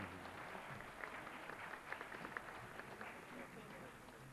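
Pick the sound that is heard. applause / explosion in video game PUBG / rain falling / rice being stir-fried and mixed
applause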